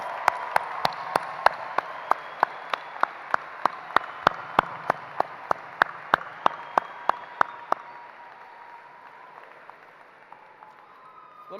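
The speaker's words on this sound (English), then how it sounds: "Applaud the family members and friends who have always been there for you when you needed them most." Graduates at a college commencement clapping for family and friends in a steady unison rhythm, sharp regular claps about three per second for several seconds, then the hall falls quiet.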